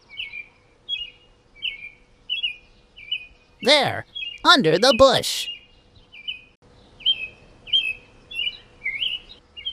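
Young bird in an animated kids' story cheeps in a steady series of short, high chirps throughout, near and clear, briefly interrupted by a child-like voice speaking mid-clip.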